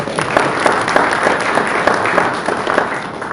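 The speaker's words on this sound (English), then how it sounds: "I want you to all give yourselves a round of applause for that." An audience at a city council candidate forum applauds itself, with loud, close clapping from a roomful of people that runs dense and steady throughout.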